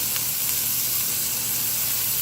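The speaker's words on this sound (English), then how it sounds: "And it's going to sizzle. It's sizzling." Duck breast sizzles steadily in a hot pan, a continuous close, bright frying hiss that holds evenly throughout with no talk.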